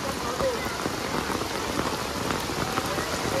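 Heavy monsoon rain pours down in Mumbai in a steady, dense hiss of drops drumming on surfaces, loud and close with no pause throughout.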